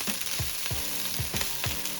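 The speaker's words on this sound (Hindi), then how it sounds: "यहाँ पे मेरे हस्बैंड चावल गरम कर रहे हैं।" Leftover pulao rice being reheated in a pan, with a continuous close sizzle and frying hiss and a rhythmic series of scraping stirs at a steady pace, no voices.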